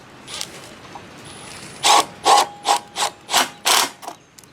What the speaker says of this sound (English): I'm going to use this 1/2-inch socket.